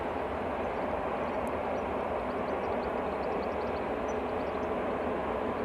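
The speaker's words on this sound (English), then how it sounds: "TUI Dreamliner coming in from Montego Bay." A TUI Boeing Dreamliner airliner arriving from Montego Bay, with a steady broadband jet roar that holds at an even level throughout, fairly loud and continuous.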